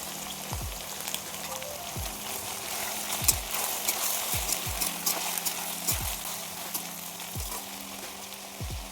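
Fresh green peas frying in oil in a pan for vangibath: a continuous close crackling sizzle broken by repeated soft, low popping thumps at an irregular pace. No talking.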